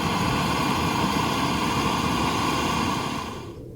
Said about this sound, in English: Just about to start talking and aeroplanes are going over.